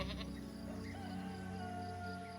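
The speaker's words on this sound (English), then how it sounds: "Looks like the goat decided to ignore us." A goat in the fantasy role-playing game Swordhaven: Iron Conspiracy gives a soft bleat that rises and falls over a low steady drone in a quiet game scene.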